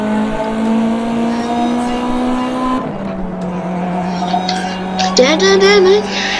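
Race car in the video game GT Racing 2, its engine holding a steady whine, dropping pitch at a gear change, then revving with brief tire squeals near the end, with voices over it.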